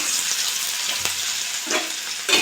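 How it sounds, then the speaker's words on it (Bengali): Hot oil sizzling in a pan with black cumin seeds just added before onions, a steady hissing crackle with a few soft stirring knocks and scrapes, close and continuous. "এটা ভাজা হয়েছে, পেঁয়াজ দিয়ে দেবো।"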